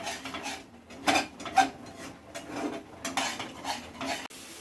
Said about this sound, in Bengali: ক্রমাগত নাড়তে হবে